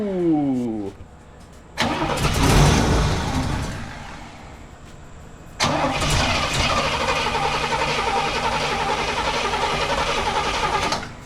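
A 1968 Cadillac Coupe de Ville being started for the first time in five years off a 12-volt booster: a long cranking attempt that nearly catches, a pause, then the engine roaring up and running steadily, close and loud.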